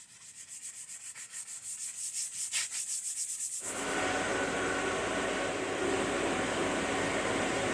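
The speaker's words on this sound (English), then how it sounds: "The 320 sponge is pretty much the ultimate sanding tool for me." Hand sanding of cabinetry wood with a 320-grit sanding sponge: rhythmic back-and-forth rubbing strokes, close and steady, then shifting into a continuous, louder broadband scrubbing hiss for the remaining seconds.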